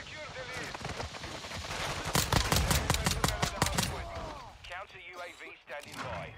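Dual-wielded P890 pistols fire in a video game as a dense burst of sharp, rapid shots in the middle, with someone talking over the gunfire before and after.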